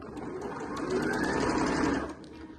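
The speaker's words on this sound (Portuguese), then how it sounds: "vou lá na máquina e vou fazer essa costurinha em toda a extensão do meu babado" A sewing machine running one continuous stretch of stitching along a fabric ruffle for a festival skirt, a steady close mechanical hum that swells slightly midway and then eases off near the end, with no voices.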